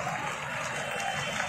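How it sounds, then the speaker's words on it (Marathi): Loud, continuous clapping from a crowd welcoming a group of children at an outdoor school event, a dense, steady patter that fills the whole stretch without pause. "जोरदार टाळ्यांनी यांचं स्वागत करा."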